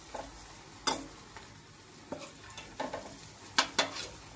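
Ajwain leaf fritters frying in hot oil, a soft bubbling sizzle broken by sharp scrapes and clinks of a utensil against the pan at irregular moments, close by and without talk.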